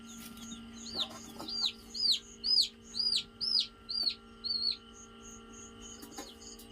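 A young rooster chick weighing about 50-60 grams peeps on a small farm: about eight close, evenly spaced high calls over a low steady background hum.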